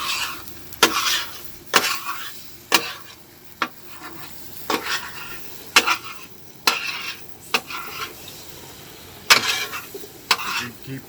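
Eggs are scrambled on a Blackstone 17-inch griddle: a spatula repeatedly scrapes and taps the hot flat-top at a steady pace over a soft continuous sizzle, close by, with no talking.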